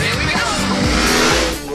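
Racing cars speed around a circuit, loud close engine roar with rising pitch sweeps as they accelerate and pass, continuous throughout.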